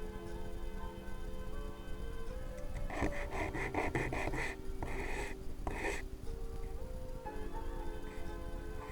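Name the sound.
sanding PVC foam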